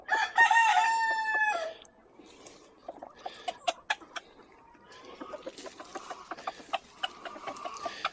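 A five-finger Ispenç rooster crows loudly and close by in a coop, one long harmonic call, followed by scattered clucks and small scratching sounds from the birds.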